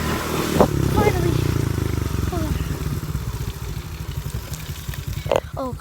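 A dirt bike engine runs close by with a steady, buzzing drone, and excited voices talk over it throughout.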